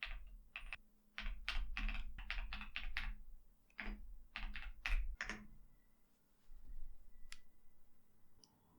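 A command is typed on a computer keyboard in rapid bursts of close, crisp key clicks, pausing between runs, with a few isolated taps toward the end and no talking.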